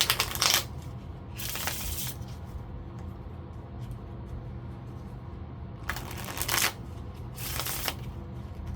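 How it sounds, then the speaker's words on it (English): Love oracle cards are shuffled in several short riffling bursts separated by quiet pauses, crisp and close, with no voices. "Let's pull some of these oracle cards."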